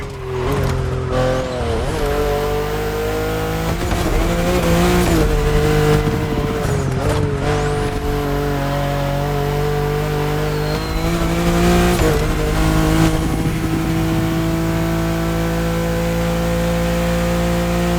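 A tuned Liberty Walk BMW in The Crew Motorfest revs hard and loud, its engine note climbing and dropping through repeated gear changes with tire squeal, racing close by with no talk.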